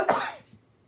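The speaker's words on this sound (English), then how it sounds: "A coughing fit." A single short, sharp cough bursts out close by and fades within half a second, part of a coughing fit.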